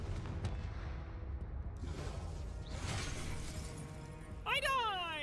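In Hogwarts Legacy, the Confringo fire spell goes off amid a combat scene. Muffled booms and crashing impacts come first, then a whooshing blast near the end, with a player shouting over the game audio.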